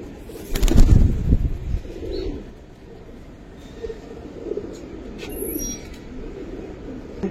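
Giribaz pigeons coo softly nearby, with a brief burst of flapping wings near the start.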